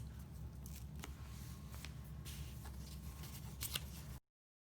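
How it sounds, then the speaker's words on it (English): Scissors snip repeatedly through book pages, a steady crisp cutting with rustling, close up and fairly quiet, with no one talking. "I just continue cutting all of my pages until they all take on this half pumpkin shape"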